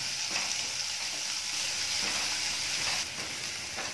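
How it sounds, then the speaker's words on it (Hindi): Long-sliced onions frying in hot oil in a pan for a millet pulao, a steady close-up sizzle and hiss holding evenly throughout with no voices. "प्याज को हल्का गुलाबी होने तक भूनेंगे"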